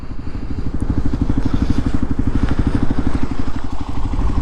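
Gen3 Kawasaki KLR 650 single-cylinder motorcycle with a Lexx exhaust, riding after a cold start at 24 degrees F, its steady rapid thumping exhaust pulses loud and close throughout with no pauses.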